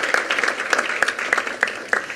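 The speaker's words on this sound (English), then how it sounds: "Please give them all a round of applause" Applause from an audience at a regional tourism youth congress, a steady patter of many hands clapping with no voices over it.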